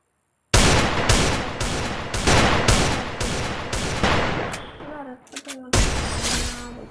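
Rapid bursts of gunfire crack out in a shooting video game, several loud volleys in quick succession with short gaps, then a few sharp isolated shots and a final burst, close and dominant with no talk over it.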